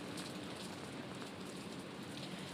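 Heavy rain pouring during Hurricane Irma on Tybee Island, a steady, dense hiss of drops hitting surfaces, loud and continuous with no voices.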